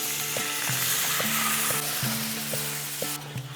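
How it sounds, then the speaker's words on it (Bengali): Milk stirred into butter-fried flour in a hot pan, a loud continuous sizzle with a spoon knocking against the pan in a steady rhythm of strokes. "এরপর এটাকে সবসময় এইভাবে নাড়িয়ে যেতে হবে, নাহলে তলায় এটা বসে যাবে।"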